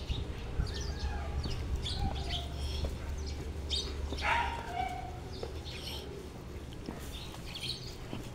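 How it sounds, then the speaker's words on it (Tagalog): Scattered bird chirps and short calls ring out over a steady low hum outside a workplace, with a slightly louder burst of chirping midway. "Dinig ang mga huni ng mga ibon."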